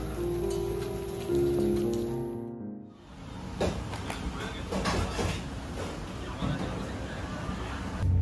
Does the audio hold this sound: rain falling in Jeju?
yes